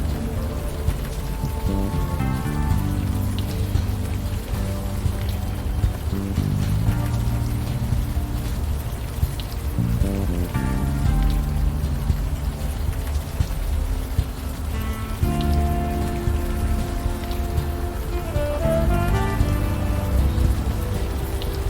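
Rain pours without pause in the video game Unavowed, a dense, even hiss of drops on surfaces with soft music layered underneath and no voices.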